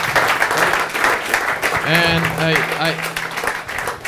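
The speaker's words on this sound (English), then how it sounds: "Round of applause for an amazing talk." Conference audience applauds after a talk on server-side Swift, a steady wash of clapping while a voice speaks over it near the microphone.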